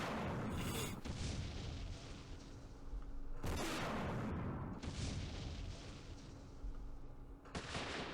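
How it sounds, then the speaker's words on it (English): A single artillery gun fires in a war strategy game. Three big, sharp blasts land a few seconds apart, each trailing off into a low rumble. "Ah, artillery. Just one gun, though."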